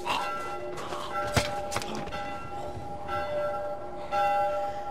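Church bells toll in The Last of Us, ringing with sustained metallic overtones over a dull ambient bed, with a couple of soft thuds along the way and a louder strike near the end.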